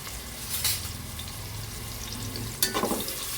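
Chopped onions and cumin fry in oil and ghee for egg biryani, a steady low sizzle with a couple of louder bursts as the pan is stirred.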